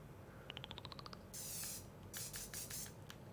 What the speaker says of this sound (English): I'm just going along the edge of it and I'm spray painting the brown part the same colour as the grass